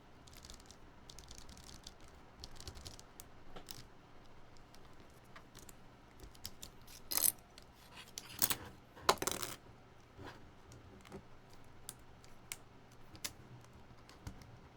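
Keys tapped on a mini SE keyboard fitted with unsoldered switches and keycaps, a quiet run of light clacks with a few louder bursts of rapid typing in the middle, close and otherwise near-silent.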